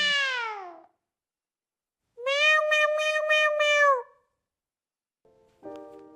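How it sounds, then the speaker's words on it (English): A house cat meows loudly and close by, first one falling cry, then a longer wavering meow, and a shorter chirpy call at the end, with silence between and no talk. "And look, the cat's curious."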